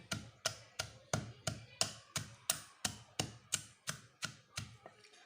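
Steady, rhythmic thuds of a pestle pounding lemongrass in a mortar, about three blows per second, close and even, with a faint wooden clack on each hit.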